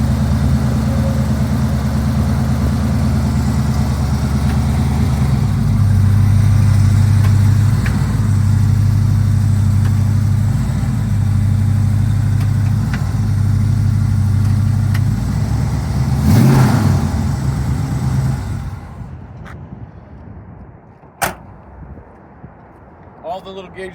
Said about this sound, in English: It's got Flowmaster 40 series mufflers on it. So it's got a little bit deep throaty sound.